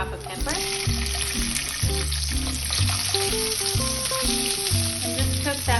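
Half a pepper frying in a pan gives a continuous crackling sizzle under prominent background music.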